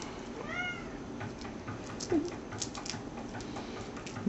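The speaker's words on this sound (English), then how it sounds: "Noise you hear is our cat, who for some reason wants to get into the cabinet" A house cat in a kitchen, wanting into a cabinet, gives a brief faint meow early on, followed by soft scratching and light knocking over a steady background hum.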